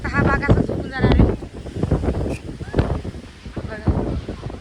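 Strong wind gusts across an open farm field with standing crops, buffeting the microphone in loud rumbling bursts while a person talks over it throughout.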